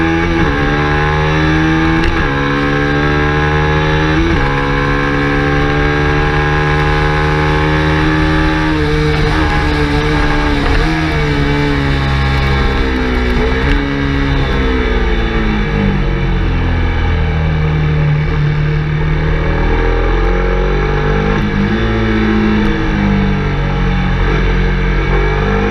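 Racing motorcycle engine recorded on board during a practice session at a Teesside track day, loud and continuous for the whole stretch, revving up and down through the gears with no pauses.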